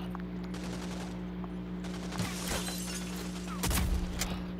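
Gunfire in the shooter game Rogue Company: a burst of rapid shots and a heavier cracking volley near the end, set over a constant hum of game sound with no voices.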